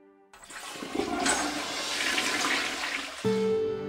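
A toilet flushes in a home bathroom, a close rushing gush of water that swells and holds for about three seconds, followed by a steady tone as it ends.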